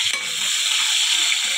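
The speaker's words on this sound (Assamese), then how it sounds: "সেইটো কাৰণে মাছখিনি এতিয়া মই এনেদৰে ভাজি আছোঁ" Salted fish pieces fry in hot oil for a bamboo-shoot fish curry, a loud, steady sizzling hiss with a brief stirring clatter near the start and no talking.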